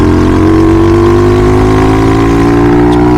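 A Grom clone motorcycle fitted with an SSR 110 engine drones loudly and steadily at high revs while riding on loose gravel, its exhaust tone close and slowly rising with no talk.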